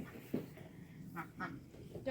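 A protective duck gives several short quacks spread irregularly over a couple of seconds, moderately close against a murky outdoor background.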